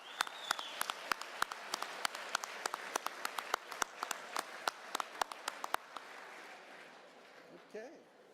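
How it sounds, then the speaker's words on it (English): Audience applauding at a trade apprenticeship graduation ceremony, sustained clapping from a crowd for several seconds before it tapers off, with faint murmuring voices as it ends. "We need another round of applause."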